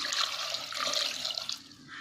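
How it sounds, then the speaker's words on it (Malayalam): Water pours steadily into a pressure cooker holding chopped papaya pieces, making a soft splashing gurgle that tapers off near the end. No voices are heard. "ഇതിലേക്ക് വെള്ളം ഒഴിക്കുക."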